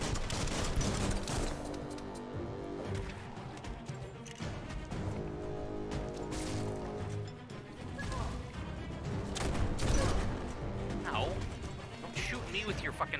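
Repeated heavy gunfire bursts from a blunderbuss in the video game Biomutant, mixed with game music and combat effects, loud and dense throughout, with a voice talking over the action.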